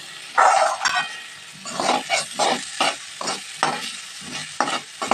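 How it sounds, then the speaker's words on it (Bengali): Spice paste is stirred and fried with rice and lentils in a pan over a low flame, a spatula scraping in a steady run of strokes over a soft sizzle, close up and without speech. "মশলাটা দিয়ে ভালোভাবে কিন্তু চাল আর ডালের সাথে মিশিয়ে নেব, এবং লো ফ্লেমে এটাকে সুন্দরভাবে কিন্তু কষাতে হবে"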